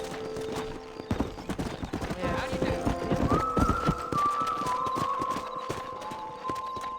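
Horse hooves clip-clop at a steady riding pace in the video game Red Dead Redemption 2 on PC, mixed with game effects, tonal music and some voice sounds.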